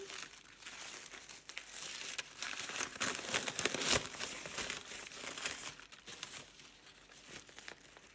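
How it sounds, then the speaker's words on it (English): Paper wrapping crinkles and tears close up as it is pulled off a Light Visions Tarot deck, a steady run of rustling and ripping with a sharper tear near the middle, with no talking. "the deck is wrapped in this paper."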